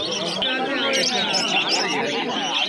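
A pair of lutino lovebirds at a busy pet market chirp and chatter continuously with high, overlapping tweets, close by, mixed with other birds and background voices.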